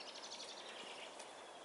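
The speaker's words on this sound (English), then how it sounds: "Yeah, that's a robin." A robin sings faintly in the distance on a dark dawn walk in December, thin high chirps and short warbling phrases drifting over steady background hiss.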